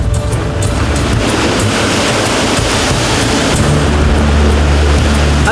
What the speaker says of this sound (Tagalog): binayo ng malalakas na alon ang bangka